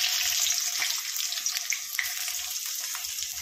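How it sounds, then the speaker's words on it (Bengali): Onions frying in hot oil sweetened with a little sugar in a wok, producing a loud, continuous close sizzle with light stirring scrapes, while dried fish paste is being cooked. "তেলের মধ্যে পেঁয়াজ দেওয়া হলো, পেঁয়াজটা লাল লাল করে ভাজা হবে"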